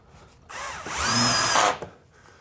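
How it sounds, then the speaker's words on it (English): A power drill drives fine-threaded drywall screws into metal resilient channels on a soundproofed ceiling: one close, loud whirring burst of about a second that rises in pitch, then cuts off, with no talking. "you want to use fine threaded drywall screws"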